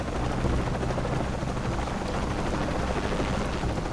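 A helicopter in the video game Shadow of the Tomb Raider gives a steady, loud rotor drone with a dense rumbling wash that holds unbroken for the whole stretch.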